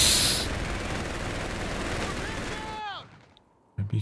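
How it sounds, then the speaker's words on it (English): Artillery fire in Company of Heroes 3 during a 2v2 battle, a dense rumbling barrage with whistling shells that fades out, then a sharp blast near the end. "Oh, but the artillery applying some pressure"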